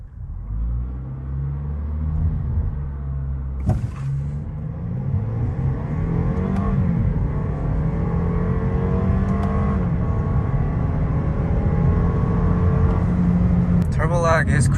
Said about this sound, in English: I love hearing that turbo spool, and it just sounds so good for some reason.